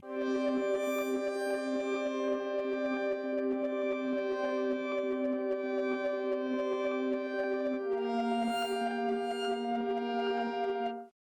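Layered pizzicato string and piano sample notes swell and bend in pitch, sustaining in a dense, even wash with a shift to a new pitch near the end, played alone without voices.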